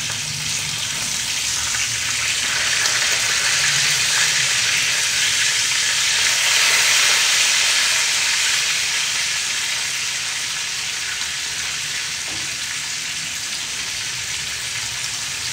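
Food fries in a pan with a loud, steady, dense sizzle that crackles without pause, swells slightly midway and runs on alone with no voices.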